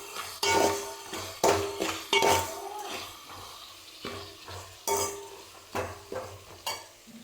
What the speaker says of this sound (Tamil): அது வரைக்கும் நம்ம கிளறிக்கிட்டு இருக்கோம்